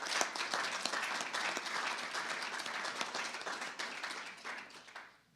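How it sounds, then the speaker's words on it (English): Lively applause from an audience at a governor's state budget announcement, many hands clapping steadily at close range before fading out at the end, with no one speaking. "He deserves a round of applause."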